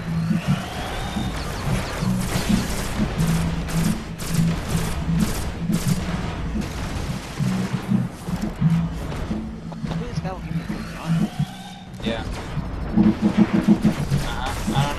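Bursts of video game gunfire crackle in clusters of rapid shots across the whole stretch, fairly loud, mixed with booms and heard under ongoing talk.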